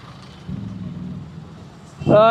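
A vehicle passing on a road: a low engine rumble swells for about a second, then a nearby voice cuts in at the end.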